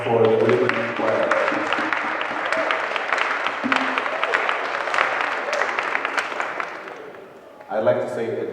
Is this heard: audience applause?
yes